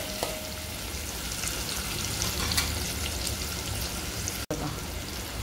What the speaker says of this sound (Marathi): जास्त नाही भाजायचं त्याला, थोडंसं असं ब्राउनिश करून घ्यायचं आहे.